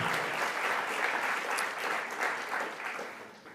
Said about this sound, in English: Give Chad a round of applause.